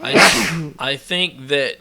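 One loud, breathy sneeze bursts out close by, then a person starts speaking right after it.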